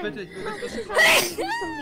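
A single sharp sneeze bursts out in the middle of expressive German speech, loud and close, with talking continuing just before and after.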